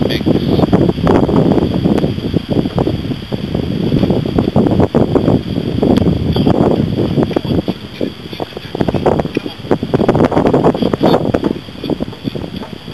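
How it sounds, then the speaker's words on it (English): Strong, gusty wind blows outdoors and buffets the microphone in a continuous roar that swells and eases in waves, with no clear voices. "It's very windy."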